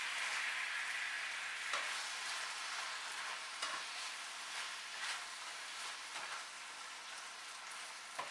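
Duck stir-fry with vegetables being stirred and folded through a drizzled sauce in a pan, giving a steady close sizzle with scraping stir strokes, and no talking.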